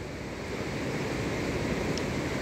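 The Alaknanda river at Kedarnath flowing, a continuous broadband rush of water, steady and fairly loud without pauses.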